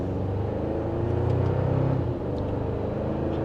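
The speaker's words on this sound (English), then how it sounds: "and just a minor acceleration, I can already feel a difference between this and the outgoing V6." A 2025 Toyota Tacoma TRD Off-Road pulls away from second gear in sport mode, its engine giving a steady low rumbling drone from inside the cabin as it gently gains speed.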